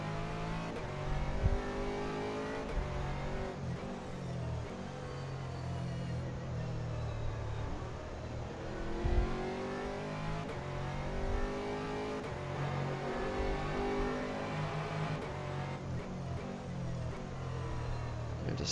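A GT3 race car accelerating hard around Paul Ricard, its engine roaring loud and close with rising harmonic sweeps through the gears, steady and continuous, with brief bursts of driver talk over it.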